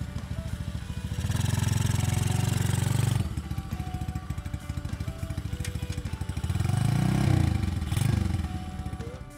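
A small 7 HP motorbike engine with a centrifugal clutch idles close by in a steady putter, rising twice into louder revs.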